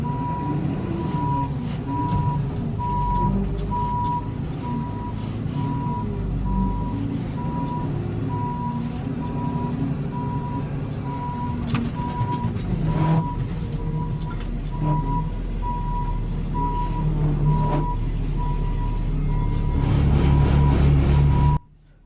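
A FedEx switcher truck backs up a trailer while a reversing alarm beeps at a steady, regular pace over a loud, continuous engine rumble. The engine swells near the end before cutting off abruptly.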